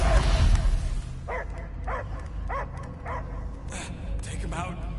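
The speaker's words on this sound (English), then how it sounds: "I hear only barking" Dog barking inside the Guardians of the Galaxy video game, a series of about six sharp, evenly spaced barks and yips at moderate volume, following a louder rumbling burst at the start.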